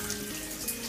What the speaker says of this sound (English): I need to add some more water, which is coming up now.